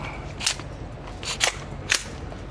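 An AR9 pistol-caliber carbine fires at an indoor shooting range, three sharp, spaced shots about half a second apart, fairly close and crisp, with no talking between them.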